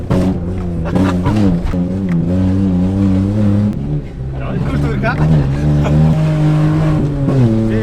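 A Daewoo Matiz engine runs on brake cleaner as fuel, droning loudly with uneven revving and pitch wavering, while people talk excitedly over it.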